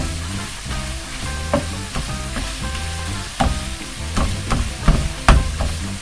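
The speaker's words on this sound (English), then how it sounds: "Now that my beef is starting to turn brown, I'm going to add my chili seasoning mix" Ground beef browning in a pan as chili seasoning mix is stirred in, a steady close sizzle with repeated scraping and knocking of the spoon against the pan, growing more clattery near the end.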